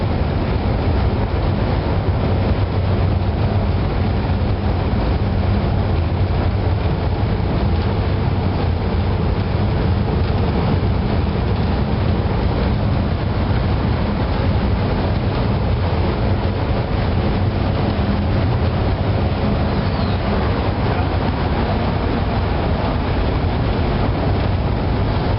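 A MAK 8 M32 ship main engine runs in a steady, dense, continuous rumble and drone, loud and constant throughout, with no voices.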